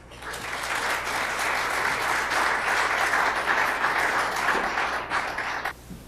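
A conference audience at a gambling-regulation event applauds a speaker coming to the podium, a dense, steady wash of many hands clapping that holds for about five seconds, then stops abruptly.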